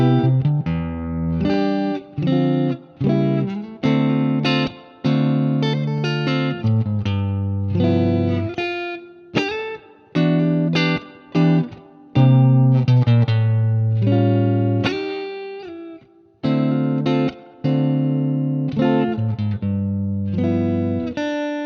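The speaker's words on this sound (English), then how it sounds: "this is my Squier Affinity Telecaster" A Squier Affinity Telecaster electric guitar played with distortion, a run of chords and riffs with short breaks between phrases.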